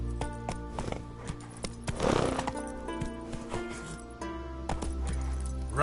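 Hooves of Geralt's horse Roach in The Witcher 3 clip-clop in a steady rhythm with a faint whinny, heard close over game music and ambience.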